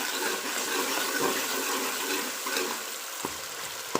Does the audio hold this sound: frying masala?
yes